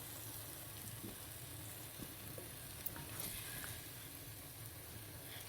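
Tomatoes frying and being stirred in a pan of aloo keema with added water, a faint steady sizzle with soft scraping spoon sounds throughout.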